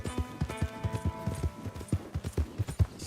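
Horse hooves clip-clop in Red Dead Redemption 2 in a quick, steady rhythm, close and fairly loud, with faint background tones and no voices.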